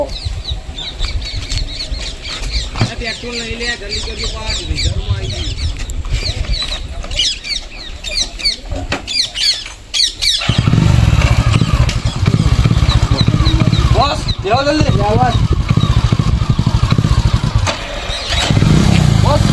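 A motorbike engine catches and then roars steadily close by, loud and rough, after a stretch of people talking and shouting; voices continue over the running engine, with chickens clucking faintly in the background.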